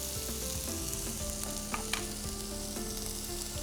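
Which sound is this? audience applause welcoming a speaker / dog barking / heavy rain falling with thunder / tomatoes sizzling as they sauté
tomatoes sizzling as they sauté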